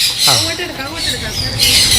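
Parrots and exotic birds at a bird park let out a loud, harsh squawk nearby, with more raspy calling and crowd noise behind it.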